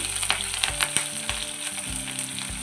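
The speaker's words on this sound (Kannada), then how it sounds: "ಬೆಳ್ಳುಳ್ಳಿ, ಒಣಮೆಣಸಿನ್ಕಾಯಿ, ಹಸಿಮೆಣಸಿನ್ಕಾಯಿ ಹಾಕ್ಕೊಂಡು ಚೆನ್ನಾಗಿ ಫ್ರೈ ಮಾಡ್ಕೋಬೇಕು" Garlic with dried and green chillies fries in hot oil, giving a continuous bright sizzle with soft crackles and occasional stirring knocks against the pan, close and steady.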